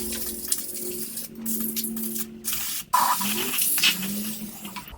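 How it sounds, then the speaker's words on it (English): Several short hissing bursts from an aerosol parts cleaner can sprayed onto a Poulan P3314 chainsaw, separated by brief pauses, over a low background hum. "now I'm going to use my parts cleaner to kind of clean this up and spray some of this out"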